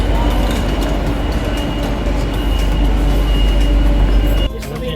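Steady loud rumble of a Madrid metro train running on its tracks, continuous and close, cutting off abruptly near the end.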